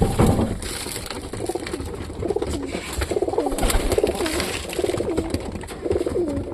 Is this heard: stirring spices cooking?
no